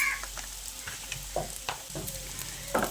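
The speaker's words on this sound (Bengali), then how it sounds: "এখন নুন আর হলুদের গুঁড়োটা দিয়ে ভালো করে মিশিয়ে নিচ্ছি।" Fried potatoes with salt and turmeric being stirred in a pan, with a steady low sizzle of frying and several distinct scraping stirs of a utensil against the pan.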